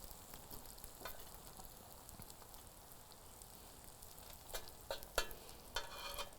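Eggs frying in a pan on a breakfast sandwich cooktop, a faint steady sizzle with a few sharper crackles and spatula taps toward the end, no talk.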